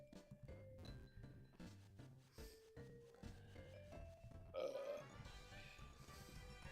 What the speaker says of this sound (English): He burped just as the music in this game ended.